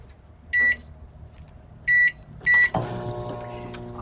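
Microwave oven being set: three short bright beeps spaced apart, then the hum of the oven starting up and running steadily, close by and alone.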